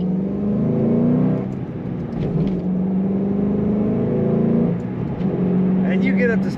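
A 2008 Ford Mustang Bullitt pulls away and gains speed, its engine droning steadily with rising pitch and short dips between gears, heard from inside the car under a voice.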